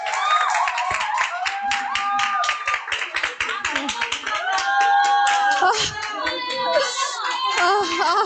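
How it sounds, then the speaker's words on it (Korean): A small meeting audience claps to welcome a businesswoman to the front, quick close claps scattered through over music and talk that continue throughout. "박수 부탁드리겠습니다."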